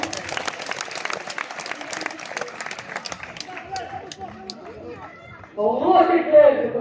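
An audience applauds steadily at a bull race in Vallabrègues, the clapping gradually thinning out before a voice starts speaking over a brief louder stretch.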